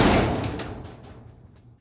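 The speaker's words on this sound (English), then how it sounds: "Gotta shut the other door first because it's a bear." A stiff, heavy garage door is pulled shut in a single loud slam with a rattling clatter that decays over about a second and a half.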